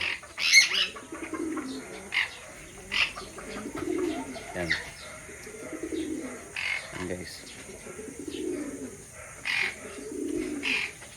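A Janssen Bold Ruler racing pigeon gives soft, repeated coos in a close, rhythmic series, with brief chirps and someone speaking now and then.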